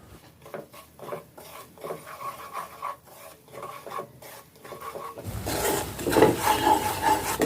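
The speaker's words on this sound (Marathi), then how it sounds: "रवा आणि बेसन आता आपल्याला थोडंसं सोनेरी कलरचं होईस्तोवर भाजून घ्यायचं आहे" Semolina and gram flour being stirred and roasted in ghee in a pan, quiet scraping and rubbing strokes in an uneven rhythm that grow louder and denser with sizzling in the latter part.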